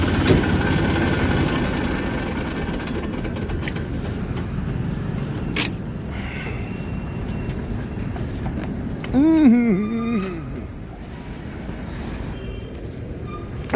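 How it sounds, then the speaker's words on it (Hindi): Several tractors, including a Massey, idle in a waiting line, giving a steady low engine rumble throughout, with a brief louder mechanical swell near the middle and faint background activity. "इसी तरह से ट्रैक्टर चलते रहते हैं।"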